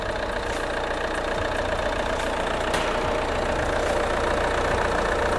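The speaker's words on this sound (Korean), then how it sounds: "엔진 소리 일정하네요" A Chevrolet Malibu 2.0 diesel engine idles with a steady, even rumble and a faint rhythmic knock, close by and unchanging throughout.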